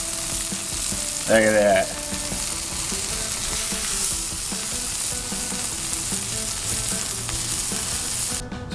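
Smashburger patties sizzle on a 36-inch Blackstone griddle, a steady broadband hiss running unbroken through the whole stretch, with a brief scrape or clatter early on and a short remark spoken once over the frying.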